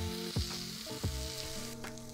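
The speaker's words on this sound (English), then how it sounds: "that's going to get a big old sizzle on the griddle" A tomahawk steak sizzles on a hot griddle, a loud continuous frying crackle with a few sharp spits and pops, heard close up with no talking.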